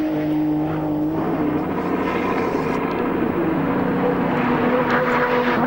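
Nissan GT-R Group A touring car racing at Bathurst in 1991, a steady loud engine roar with droning harmonics, the car at full power throughout, no talk.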